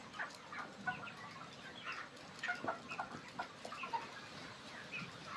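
Broiler chickens, about 34 days old, crowded in a poultry farm shed, clucking and chirping continuously in a busy overlapping flock chorus, fairly soft and a little distant, with no talking.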